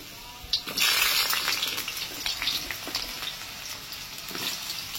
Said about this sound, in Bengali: তেলটা পুরোপুরি গরম হয়ে গেছে, এবার আমি আলু পটলটাকে ভেজে নেবো। প্রথমে পটলটাকে ভেজে নেব।